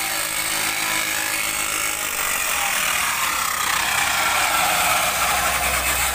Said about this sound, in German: Und dann kann ich hier ordentlich noch sägen.